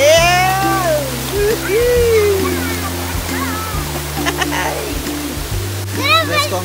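Rushing spring water pours steadily down a river like a stream or small waterfall at Bato Spring, while people talk and shout excitedly over it and music plays nearby.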